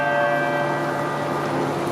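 Church bells ring continuously in a brief, steady burst of sustained metallic tones at a moderate distance, with no one talking.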